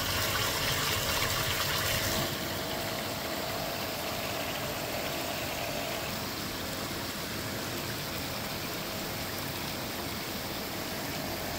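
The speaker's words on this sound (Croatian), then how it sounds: "Čuje se zvuk motora, znači ova voda se vuče" Motor pumping cold spring water from a small spring, heard as a steady mid-level hum with gushing water, slightly louder in the first two seconds then constant to the end.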